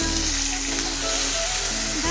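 Onion paste drops into hot oil with cumin, cloves, cardamom, cinnamon, black cardamom and asafoetida, setting off a loud, continuous sizzle close by, with a low hum running underneath.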